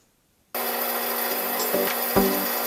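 A drill boring into metal gives a steady, loud mechanical whine with grinding texture that starts abruptly and keeps running, with a couple of brief thumps near the end as the drill bites.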